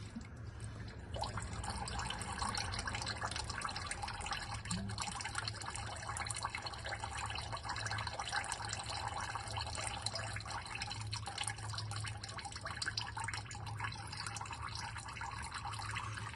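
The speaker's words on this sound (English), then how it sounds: "we'll let that drippity drip out of there" Engine oil drains from the underside of a 2023 Lexus GX460 during an oil change, a faint, continuous trickle with light dripping that runs steadily throughout.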